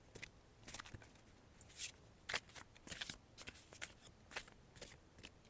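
Tarot cards being shuffled, with repeated soft riffling and flicking bursts in an irregular rhythm, close by and faint, with no talking.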